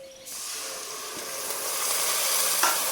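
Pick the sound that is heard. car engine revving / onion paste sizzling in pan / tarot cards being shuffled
onion paste sizzling in pan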